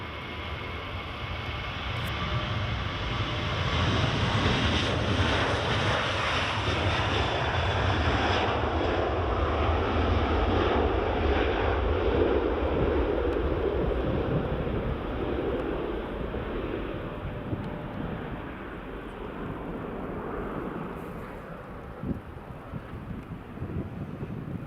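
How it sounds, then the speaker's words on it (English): Jet airliners departing Edinburgh Airport, a business jet and an Iberia Express plane, give a broad, steady roar that swells and holds for most of the stretch before easing slightly, with wind buffeting the microphone throughout. "Got a BizJet going out, got the Iberia Express going out."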